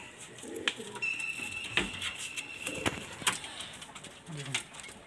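A male Kotashi fulsira pigeon coos softly in soft, rounded bursts, with scattered clicks and light rustling close by.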